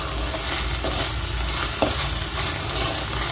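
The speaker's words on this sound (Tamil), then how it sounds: "இந்த ஸ்டேஜில் இஞ்சி பூண்டு பேஸ்ட் ஆட் பண்ணிக்கலாம். ஒரு நிமிஷம் நல்லா மிக்ஸ் பண்ணி விடுங்க." Ginger garlic paste stirred and frying in a pan for an egg kurma, a steady close sizzle with scraping stir strokes throughout and no voices.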